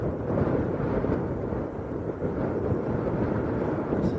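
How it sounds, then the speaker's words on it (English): Strong wind at Lanzarote Airport roars steadily into the microphone, a continuous low rumbling buffet with no pauses and no voices. "This almost feels like one of them windy days at Leeds, Tom."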